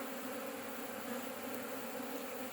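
Honey bees buzz at an open hive being promoted to a full colony, a soft, even drone that holds steady and faint throughout, with no one talking.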